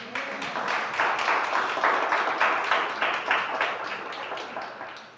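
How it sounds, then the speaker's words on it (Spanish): A church congregation applauds after a sermon, a sustained burst of many hands clapping that is loud and even throughout before gradually thinning toward the end. "Démosle un aplauso al Señor"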